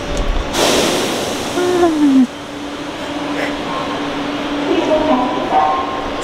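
Seoul subway train at a station platform with screen doors, a loud rushing rumble and rail noise with a brief squeal, settling into a softer hum as people talk over it.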